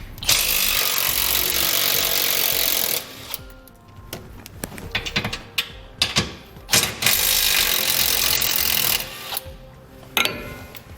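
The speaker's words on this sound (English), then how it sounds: "We want a 15mm socket. We just need to remove the nut here and the one located behind it here." A power ratchet or impact tool spins off nuts with a 15mm socket during removal of a jounce bumper on a 2017 truck, loud bursts of rattling whir in a workshop, with short pauses between runs.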